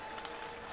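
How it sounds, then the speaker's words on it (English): Sustained applause from a crowd of Mountaineer fans at the 2024 NCAA air rifle championship, a steady dense patter of clapping at moderate distance with no voices over it. "another round of applause for Tucker there"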